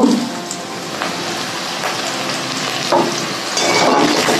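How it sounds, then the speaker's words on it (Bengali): Onion and garlic frying in a pan, a dense, loud, continuous sizzle with occasional soft stirring knocks, heard close up with no voices. "এখানে পেঁয়াজ রসুনটা একটু ভাজা ভাজা করে নিচ্ছি।"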